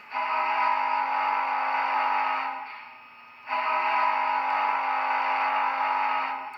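A steam-style whistle from an Athearn HO scale Challenger model locomotive's sound decoder blows in two long sustained blasts with a brief dip between, tinny as if from a small speaker, with no talking.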